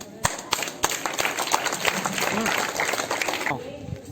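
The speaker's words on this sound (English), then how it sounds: "Clap for her." At a school Independence Day program, an audience claps for a 9th-standard student speaker, a brief patter of hands with voices and murmuring underneath before it dies down.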